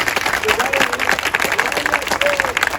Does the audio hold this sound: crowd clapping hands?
yes